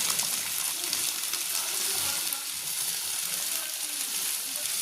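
Fish curry bubbles in a pot on the stove, giving a steady, dense hiss and sizzle that holds at an even level throughout with no talking.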